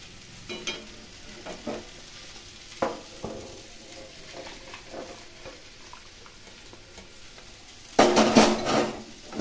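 Fish curry with coriander leaves simmers in a pan as a utensil stirs and scrapes in scattered soft clinks, ending in a louder burst of scraping and sizzle near the close.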